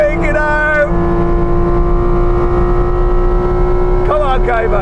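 Porsche Cayman GT4 RS engine on a race track, a loud sustained in-cabin drone holding high revs with a steady tone, and a voice talks briefly at the start and again near the end.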